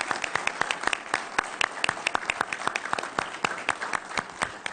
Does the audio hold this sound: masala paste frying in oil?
no